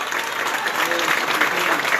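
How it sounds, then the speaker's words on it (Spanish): Applause at the inauguration ceremony for the Casa de los Abuelos building in Coronel Granada: a crowd claps steadily and continuously at moderate loudness, with faint voices mixed in. "Los aplausos."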